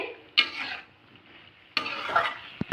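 A spoon stirs spices through a lightly spiced vegetarian vegetable curry in a pan, giving two bursts of scraping and clinking with a soft sizzle in the quiet between them and a sharp metallic tap at the end.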